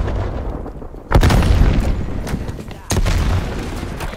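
Two heavy grenade booms, about two seconds apart, burst out of a Call of Duty Black Ops Cold War multiplayer match, each rolling over a constant rumble of battle noise.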